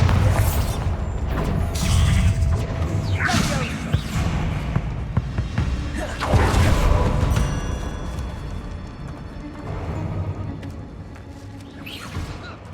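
Confringo spell explosions in the video game Hogwarts Legacy, heavy booming bursts and crashing blasts layered over a dense rumbling game mix, with spells called out between them.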